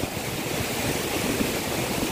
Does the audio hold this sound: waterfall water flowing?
yes